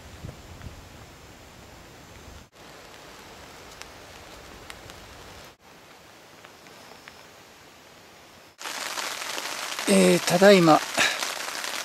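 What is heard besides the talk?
heavy rain falling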